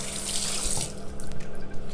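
Lukewarm tap water running steadily into a bathroom sink during a nighttime skincare routine, a continuous close splashing flow with no voices.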